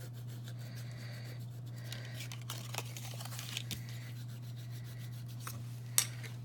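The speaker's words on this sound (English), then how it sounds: "I usually like to go and kind of burnish them just to make sure they're really glued to the flaps" Glued designer-series paper flaps on a handmade card are burnished by hand with a tool, making faint, soft rubbing strokes with a few light scrapes and a brief sharper tick, against a steady low background hum.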